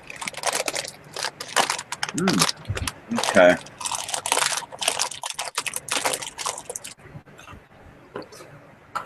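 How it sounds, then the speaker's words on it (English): Pork skins doused in hot sauce such as Tabasco crackle and crunch in close, dense bursts like crisped rice, with brief murmured words in between. "You put hot sauce on them, say like Tabasco or something, and they start crackling like Rice Krispies."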